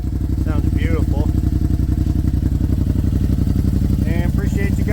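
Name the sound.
Yamaha RMAX 1000 engine exhaust with Richard Fochs exhaust tip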